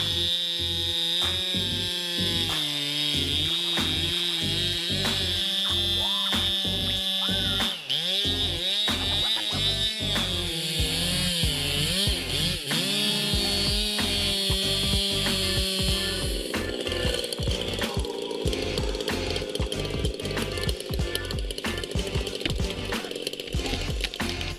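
A Stihl MS881 chainsaw fells trees, its engine screaming at high revs in a sustained loud whine. The pitch surges and dips repeatedly as the chain bites into the wood, with choppy bursts and no voices.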